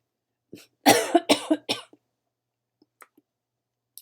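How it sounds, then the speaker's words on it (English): A person coughs several times in a quick, harsh burst up close, then falls mostly quiet apart from a few faint clicks. "Cough drop because I'm coughing"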